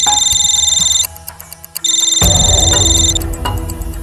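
A telephone rings loudly with a bright, repeating electronic ringtone in a crime-drama police office. It breaks off briefly, resumes, then continues under a heavier burst of broadband sound.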